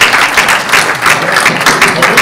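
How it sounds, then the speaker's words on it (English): An audience at a business school presentation breaks into loud applause, a dense patter of many hands clapping steadily for a couple of seconds. "Hold your applause."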